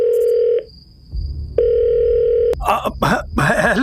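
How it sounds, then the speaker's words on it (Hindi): A telephone is dialed in an audio drama, with a steady dial tone, a pause, then the tone again before a voice starts talking. "अपनी लड़खड़ाती उंगलियों से बिल्डर को फोन लगाया"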